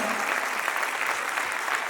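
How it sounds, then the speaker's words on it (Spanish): A conference audience breaks into sustained applause, a thick continuous clatter of many hands clapping at even loudness from start to finish, with no voices on top. "Por favor, eso merece un gran aplauso."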